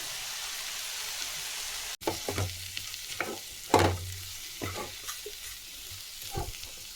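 Steady sizzling of coriander powder frying in a pan for mutton sambar masala, with clinks and scrapes of stirring popping through, close and fairly loud, no voices.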